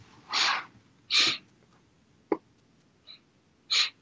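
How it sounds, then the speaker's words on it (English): Several short, breathy nasal sniffs separated by pauses, close to the ear against a quiet background, with one brief click in the middle. "Sniffles seem to have started."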